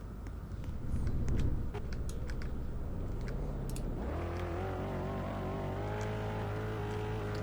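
A car in the Roblox video game drives and slides, its engine droning steadily, dipping, then rising in pitch as it revs and holds a higher whine, with small clicks scattered throughout.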